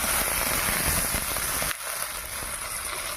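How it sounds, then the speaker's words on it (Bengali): Potatoes and ridge gourd fry in hot oil in a kadai, a dense continuous crackling sizzle that stays loud and close, easing slightly partway through. "আলু আর ঝিঙে আমি ভালো করে ভেজে নেব"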